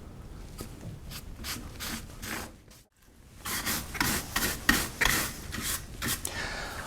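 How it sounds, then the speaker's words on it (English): A cloth and a bristle brush buff a waxed, basketweave-carved wooden piece in a run of quick, close rubbing and scrubbing strokes, briefly pausing midway before resuming more vigorously. "I'll give it a good buffing up with a cloth and a brush."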